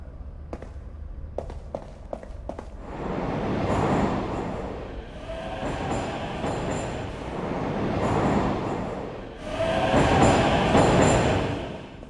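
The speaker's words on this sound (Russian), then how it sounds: "Так, вызываем поезд." A train arrives in the game Beholder 3: a few sharp clicks, then a loud rumbling roar of the approaching carriages that surges in waves with faint squealing, growing strongest toward the end, no speech.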